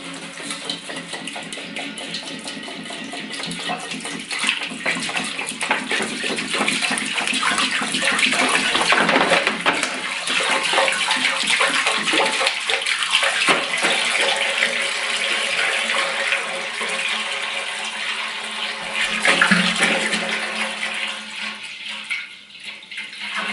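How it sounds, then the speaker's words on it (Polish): Water poured into a vessel for mashing an oatmeal stout, a first batch of about five litres, running as a steady continuous gush and splash, close and fairly loud throughout. "Ok, woda już odparowała, wobec tego lejemy. Pierwsze 5 litrów."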